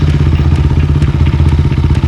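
A motorcycle engine idles with a rapid, throbbing rumble, steady and close, with a faint clattering rattle.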